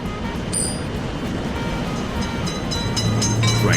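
A train rolls through a railway level crossing on a road, a steady, loud rumble of wheels and cars running close by for the whole stretch with no voices.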